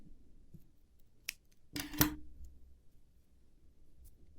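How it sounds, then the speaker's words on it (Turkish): Scissors cutting yarn while making needle lace trim: one sharp, close snip, with a tiny click just before it, in an otherwise quiet room. "Bir zincir alarak direkt ipimi kesiyorum."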